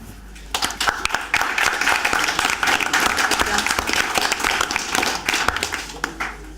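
A conference audience applauds the panelists at the close of an afternoon session, giving a steady round of clapping from many hands that swells quickly and holds for several seconds.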